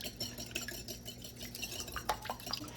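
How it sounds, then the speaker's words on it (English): Buttermilk pancake batter being whisked in a bowl, a steady run of soft scraping swirls and light clinks of the whisk against the bowl, close and moderately quiet, with no talking. "I'm going to give this a good whisk."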